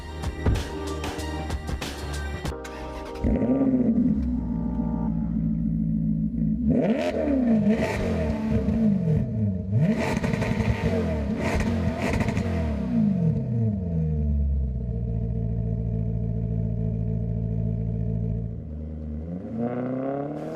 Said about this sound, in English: The deep rumbling upon starting makes it immediately clear.